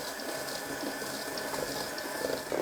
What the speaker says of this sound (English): Next I'm going to add my buttermilk slowly.